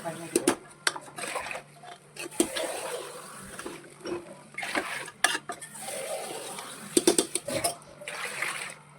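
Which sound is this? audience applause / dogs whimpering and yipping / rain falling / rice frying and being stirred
rice frying and being stirred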